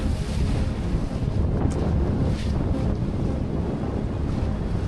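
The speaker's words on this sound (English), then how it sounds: "The wind is 25 knots." Strong 25-knot wind at sea roars across the microphone aboard a Nautitech 40 catamaran, a loud constant rumbling buffet mixed with the wash of waves along the hull, with no voices.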